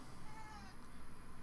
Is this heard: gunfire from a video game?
no